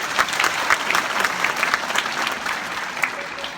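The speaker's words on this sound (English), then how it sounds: "Shall we give Attorney Ganggangan a round of applause" Audience applause at a university commencement ceremony, a dense, sustained round of clapping from a large crowd filling the whole stretch at a steady level.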